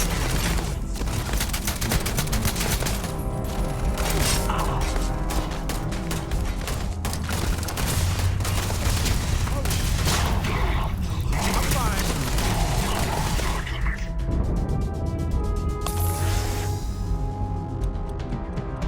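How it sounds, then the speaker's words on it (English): Grenade blasts and gunfire rage continuously in the Starfield game, with dense rattling bursts, booms and mechanical clatter filling the whole stretch at steady loudness; voices mingle in the din. "they've really started throwing grenades like crazy"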